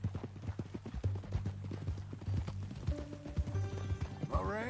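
Horse hooves clip-clop in a steady walking rhythm, close and distinct, with a brief neigh and some background music joining toward the end.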